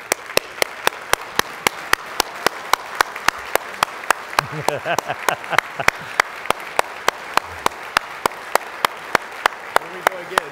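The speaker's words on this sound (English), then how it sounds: "So I want you to stand with me and clap and honor one of our own, Dr. Dave Burrows." A standing church congregation claps to honor a member. A dense, even wash of applause runs under sharp, regular rhythmic claps close by, with a few voices rising in the middle.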